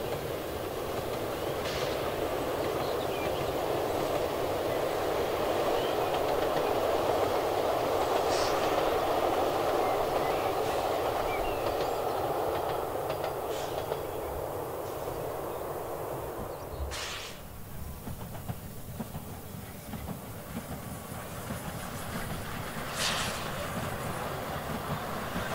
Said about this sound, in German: Bei Seelwitz zieht der Zug an weiten Getreidefeldern vorbei.